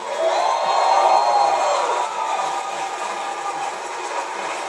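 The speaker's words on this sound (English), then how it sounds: "applause, please, for Todd Howard." A live press-conference audience at E3 2018 applauds and cheers for Todd Howard at the Bethesda show, a dense, steady wash of clapping and crowd noise that swells early and then holds at a slightly lower level throughout.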